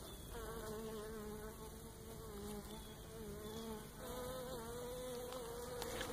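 Large bees buzz steadily near the microphone at hives abandoned in a forest. The droning hum of many insects is continuous and layered, with no voices.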